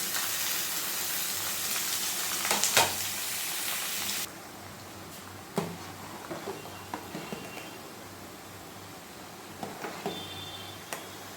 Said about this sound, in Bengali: গাজর, বিনস এগুলো দিয়ে আমি একটু ভেজে নিচ্ছি